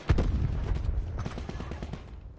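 Gunfire from a sniper in a battle royale video game, a sharp loud report followed by a rapid cluster of further shots that fade out over about two seconds.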